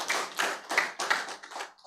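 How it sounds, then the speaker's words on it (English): Audience clapping at a law student association launch event, heard as a few short, separate bursts of hand claps that are fairly close and sharp, with brief gaps between them. "let's give them a hand clap of appreciation"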